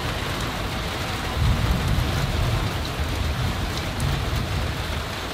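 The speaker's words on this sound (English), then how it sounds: "Listen to that thunder, you guys." Night thunderstorm with steady heavy rain pattering on surfaces and deep thunder rumbling low underneath, swelling louder in the middle, with no voices.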